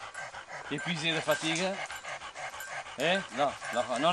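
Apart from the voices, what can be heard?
exhausted dog panting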